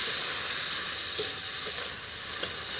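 Dry fish being stirred in a pan with mustard paste, turmeric and chilli powder, a steady sizzle with occasional soft scrapes of the spoon, close and without speech.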